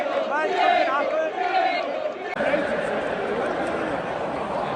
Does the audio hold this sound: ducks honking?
no